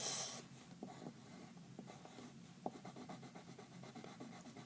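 A pencil colors on paper while a bookmark is being made, giving close, quiet, rhythmic scratchy strokes in short repeated bursts.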